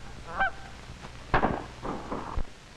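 Geese honk as they take flight from hunters, a few separate hoarse calls with some wing and splash noise, moderately near and not very loud, in an old 1938 hunting film.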